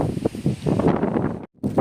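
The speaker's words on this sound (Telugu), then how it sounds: "గాలి చూస్తున్నారు కదా" Wind blows across a chilli field outdoors, rumbling and buffeting the microphone in uneven gusts, with a brief drop to near silence before it picks up again.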